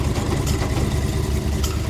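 A long-unused engine, started after sitting idle and now smoking from burned oil, runs at a steady idle with a dense, continuous low rumble at constant level throughout, no voices over it.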